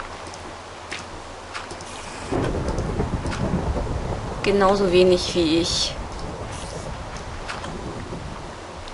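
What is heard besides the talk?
thunderstorm with rain in the video game Minecraft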